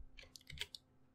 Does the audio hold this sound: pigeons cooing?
no